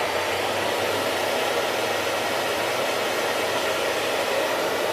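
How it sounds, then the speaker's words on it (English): A hair dryer fitted with a large Curly Co diffuser runs steadily while drying curly hair, giving a constant, close, loud rushing whoosh of air with no talk. "I love the fact that the Curly Co diffuser has such a big surface because it'll dry my hair faster."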